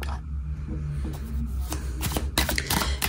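Tarot cards shuffled by hand before a reading make a run of close, crisp riffling and flapping bursts that grow busier toward the end, with no talk over them.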